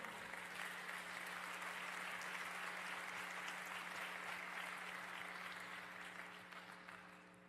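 Sustained applause from a church congregation, steady and dense throughout, tapering slightly toward the end with a low steady hum underneath.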